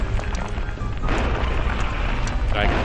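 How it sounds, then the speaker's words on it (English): Cascading explosions in the video game Kaiju-A-GoGo, heavy booming rumble that rolls on continuously and loudly throughout, with a fresh burst partway through, layered under game sound. "Or is it just a cascading eruption of explosions?"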